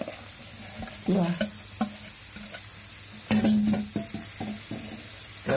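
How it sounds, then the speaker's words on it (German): Vegetables frying in a pan on a gas stove, with a steady sizzle under repeated stirring and scraping strokes; a short word is spoken once. "Dann werden wir jetzt das Gemüse anbraten."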